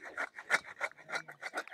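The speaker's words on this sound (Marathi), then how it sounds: "आपला खोबरा खिसून घेते" Dried coconut is grated by hand for methi ladoo, giving a series of quiet, rhythmic rasping strokes, about eight or nine evenly spaced scrapes in quick succession, close up and with no talk.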